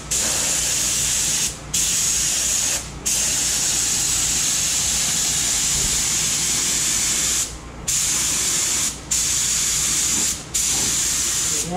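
A paint spray gun lays clear coat onto a 1964 Pontiac Catalina, giving off a loud, close, continuous hiss. The hiss breaks off briefly several times as the trigger is released and then resumes, and no voices are heard.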